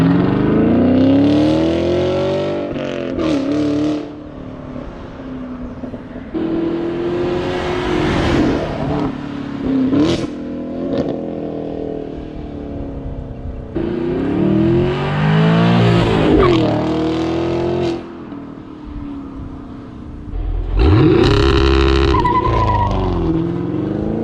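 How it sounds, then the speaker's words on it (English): A Chevrolet Camaro LT1/SS with the factory OEM NPP exhaust, heard from outside, rumbles and revs loudly in repeated bursts with rising and falling engine pitch and some tire squeal, close by, with no talk. "Even from the factory, this OEM NPP exhaust system sounds incredible. Let me show you guys how it sounds from the outside."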